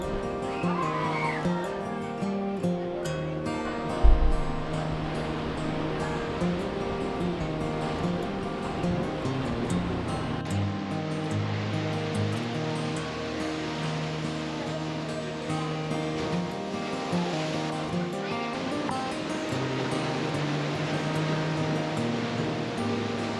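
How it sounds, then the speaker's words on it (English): Ocean waves surge into Thunder Hole, a narrow rock inlet at Acadia, giving a continuous deep churning roar with one sharper thump early on, steady and fairly loud alongside a low hum. "The waves come out, they come in through like two rocks in a tight spot and hit this hole and make this real cool thundery sound"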